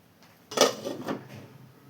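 A lid set onto a pot of chicken curry: one soft metallic clatter with a brief rattle, faint and close, in a quiet kitchen.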